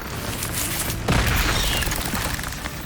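An Incendio fire spell bursts in Hogwarts Legacy: a sudden booming blast about a second in, followed by a roaring, crackling rumble that fades slowly amid game noise.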